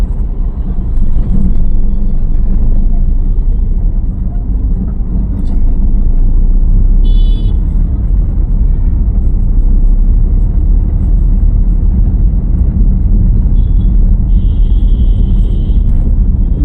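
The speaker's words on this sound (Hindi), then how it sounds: "क्लच दबाइए, एक्सीलेटर छोड़ के तुरंत सेकंड गियर कर दीजिए जी।" A car being driven on a road during a driving lesson, its engine a steady, loud low rumble heard from inside the cabin throughout, with no distinct gear change standing out.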